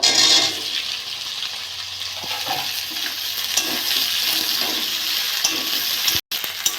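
Potatoes and okra sizzle steadily in hot oil over lightly fried onion, cooking for a Bengali tilapia curry with aloo bhendi; a continuous close, bright frying hiss with small crackles, cut by a brief pause near the end.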